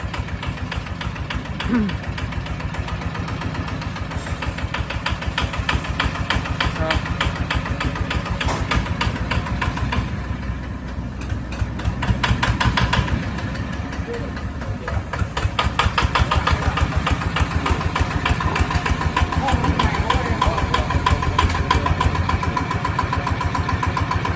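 A Kubota 155 Plus diesel engine idles steadily up close with a dense, rattling knock throughout, its pitch briefly rising and easing as it revs slightly.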